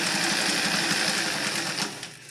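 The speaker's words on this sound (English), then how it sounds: "I'll start off with the just the standard zigzag." A Singer 319W sewing machine runs a zigzag stitch with a steady, dense mechanical whir and rapid needle chatter, close and continuous, easing off slightly near the end, with no talking.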